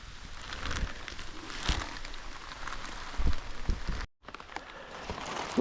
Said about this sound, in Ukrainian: дощ лупить щораз, щораз сильніший